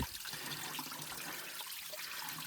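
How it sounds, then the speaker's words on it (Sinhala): Cold mountain spring water runs steadily into bottles being filled at a campsite, a continuous close trickling and splashing with no talk. "අපි ගෙනල්ලා ඉතින් වතුර ටික ඔක්කොම පුරවගෙන යනවා."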